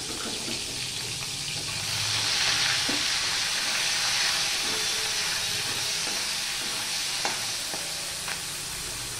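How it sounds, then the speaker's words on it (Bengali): Small fish frying in a pan of oil, a continuous close crackling sizzle that swells briefly and holds steady, with faint utensil clicks. "এবারে যে মাছটা আমি রেখেছি এই মাছটা আমি ভেজে নেব"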